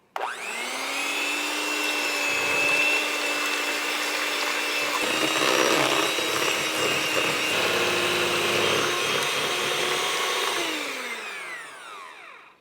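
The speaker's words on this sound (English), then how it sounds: "Then I'm using a mixer and mix them together." An electric hand mixer whirs steadily as it beats egg yolks and whole eggs together for a keto cheesecake, a loud, continuous high whine with a slight change in pitch partway through, then spinning down at the end.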